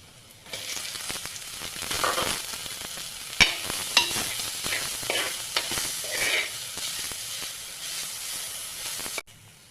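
Finely chopped onion going into a pan where garlic has turned golden brown, giving a bright continuous sizzle and hiss with a few knocks and scrapes from stirring, ending abruptly.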